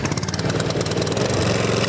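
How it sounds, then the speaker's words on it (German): A petrol lawn mower engine runs steadily after starting with a pull cord, a loud, close, continuous mid-pitched chugging hum with no talking over it. "man zieht also nur an diesem Bautenzug an und der Mäher springt an"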